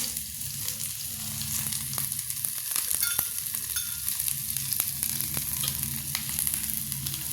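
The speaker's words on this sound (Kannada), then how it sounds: "ಈಗ ನಾನು ಜೀರಿಗೆ ಹಾಕ್ತಾ ಇದ್ದೀನಿ ಹಾಗೆ ಒಂದು ಈರುಳ್ಳಿ ಹಾಕ್ತಾ ಇದ್ದೀನಿ" Onion with cumin and mustard seeds frying in hot oil, a dense continuous sizzle with small crackles and pops throughout, loud and close, no voices.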